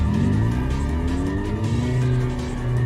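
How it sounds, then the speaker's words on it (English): Powerful car engine roaring in an underground parking area in the Steins;Gate 0 visual novel, with sustained revving and rising engine tones plus tire squeal, loud and continuous throughout. "The sound of a powerful engine shook the underground air."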